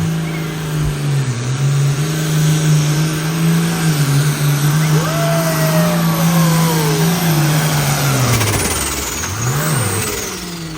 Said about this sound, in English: the old Mack Farmer tractor